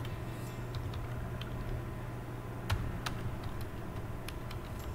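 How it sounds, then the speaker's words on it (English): Someone typing a name on a computer keyboard: sparse, light key taps, close but soft, scattered irregularly over a steady background hiss with no talk. "as it's blinking, you type your name"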